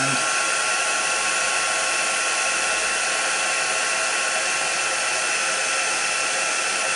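Hot-air heat tool blowing steadily to melt white embossing powder, a loud continuous fan whoosh and hiss heard up close and alone throughout.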